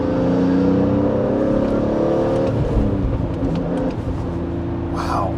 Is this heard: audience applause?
no